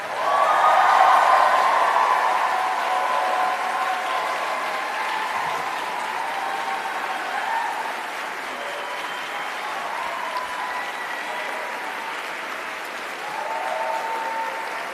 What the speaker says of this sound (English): Please stand and applaud